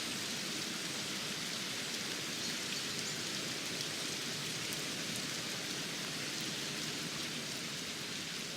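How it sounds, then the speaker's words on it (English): Steady rain outside a window, a continuous close patter of drops hitting surfaces at an even level throughout, heard alone without talk. "It can be relaxing to listen to the rain."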